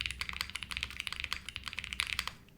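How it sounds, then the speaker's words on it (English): Brisk typing on a tenkeyless mechanical keyboard with PE foam inside, a close, fast stream of crisp, poppy keystrokes with an uneven rhythm and no talking. "That's like a typical PE foam sound."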